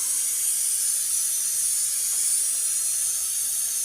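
A pot boiling over on a full gas flame with a pressure cooker whistle hissing, a steady loud high-pitched steam hiss that runs unbroken throughout.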